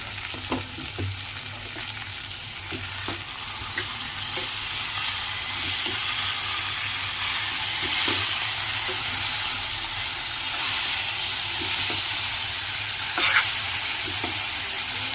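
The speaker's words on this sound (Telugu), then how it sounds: "ఇప్పుడు మధ్యలో ఒకసారి కలిపేసుకుందాం." Masala dal curry sizzles steadily in a pan while being stirred, with occasional scraping clicks over a continuous frying hiss that stays close and even throughout.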